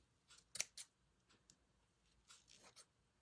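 Scissors snip through ribbon and polka-dotted tulle, two sharp close cuts near the start followed by softer rustling and a few fainter snips, quiet and alone.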